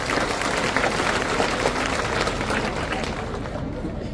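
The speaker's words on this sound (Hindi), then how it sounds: "तो बजाओ ताली महिलाओं के।" A crowd of women applauding at a political rally, a dense, steady wash of clapping mixed with crowd noise that fades slightly toward the end.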